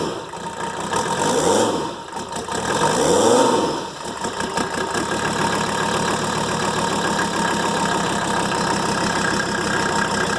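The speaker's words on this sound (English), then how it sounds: "I'm just going to run it up in the RPMs a little bit." A Mercedes OM617 diesel engine, freshly rebuilt with a rebuilt fuel pump, clatters at idle, swells through two quick revs, then settles into a steady, loud, close diesel rumble with no talk.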